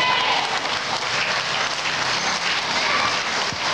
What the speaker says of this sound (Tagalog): Grabe po yung palakpak nyo sa Panginoon.